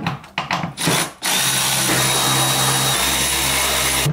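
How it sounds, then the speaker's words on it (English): A power driver fitted with a T40 Torx bit spins out panel bolts during a Teraflex HD tire carrier install, giving short loud whirring bursts followed by a long steady motor whine. "You're going to need a T40 Torx bit for the bolts that are holding in this panel"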